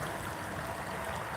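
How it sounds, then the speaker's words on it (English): A long creek in Northern California near its confluence with the Russian River, a steady, close wash of flowing water with no pauses and no talk. "So yeah, it's a long creek"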